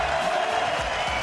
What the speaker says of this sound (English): The crowd going absolutely nuts.